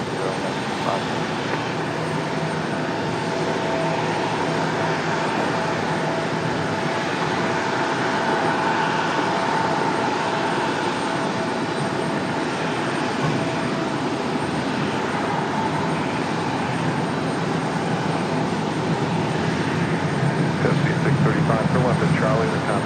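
A jet airliner rolls for takeoff on runway 5 left at Raleigh-Durham International Airport, a loud, sustained engine roar and broadband rush holding steady throughout with faint tonal whine, heard from a distance outdoors.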